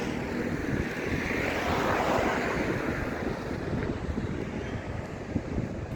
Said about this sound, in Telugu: చల్లగా వస్తుంది గాలి